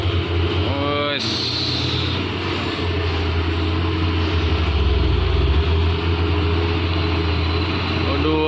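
A coal or palm oil truck's engine roars at full throttle with a steady, heavy low drone that swells and rises in pitch while people talk over it.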